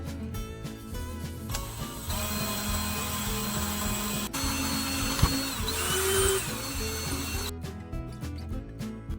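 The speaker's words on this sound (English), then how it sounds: "Now drill one hole in the center of that freshly cut end." A power drill boring a single hole in the freshly cut end of a bottle-cap fish scaler tool, a steady whirring drone that shifts pitch partway through, then stops abruptly.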